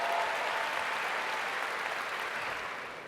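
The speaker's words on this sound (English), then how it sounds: "can we give them one more round of applause for doing a great job?" A room full of people clapping at a corporate ACN event in Rome, sustained and even, fading slightly toward the end.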